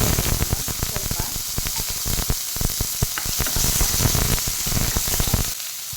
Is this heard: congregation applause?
no